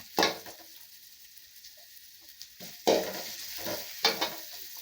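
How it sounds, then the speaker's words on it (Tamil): Crushed garlic frying in sesame oil, heard as a soft sizzle broken by several sharp bursts of stirring and scraping in the pan. "இப்போ இந்த பூண்டு தட்டி வச்சுருக்கோம் இல்லைங்களா, அதையும் போட்டுடலாங்க"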